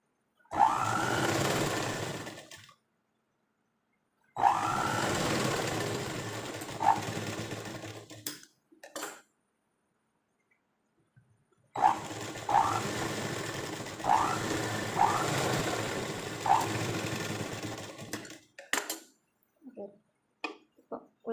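A sewing machine stitching churidar pants runs in long steady bursts separated by pauses, close and fairly loud, with brief clicks and handling between runs.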